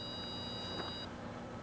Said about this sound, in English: Voltage reaches the warning devices and a low oil pressure alarm is given.